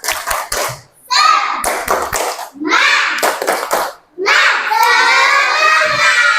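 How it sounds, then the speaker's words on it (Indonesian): Children in a classroom perform a rhythmic clapping chant, bursts of quick hand claps alternating with shouted group chanting, loud and close. "Kita melakukan tepuk semangat"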